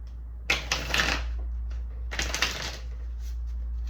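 Two quick bursts of tarot cards being riffled and shuffled, crisp and close, with a quiet pause between them over a low steady hum.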